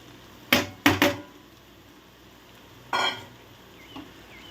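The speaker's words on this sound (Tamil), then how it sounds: "சேர்த்து எல்லாத்தையும் நல்லா வதக்கியிருக்கிறோம் நல்ல ஒரு கிளறு கிளறி அந்த எண்ணெயில்" Cooked, chopped blood being stirred and fried in oil with sautéed ingredients in a pan, heard as three quick scraping stirs up close, then a longer stir and a faint final one over a low background.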